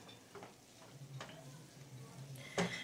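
Ground beef and chopped onion being stirred in a pan, with a quiet sizzle under scattered scraping clicks of a utensil and a sharper knock against the pan near the end.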